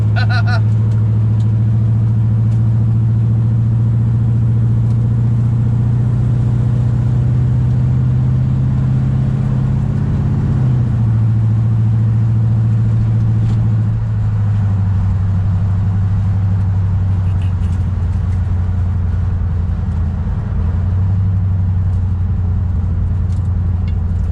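A 1968 Dodge Charger swapped to a 5.7 Hemi drives steadily, its low engine drone loud and constant from inside the car, dipping in pitch around gear shifts near the middle and later on.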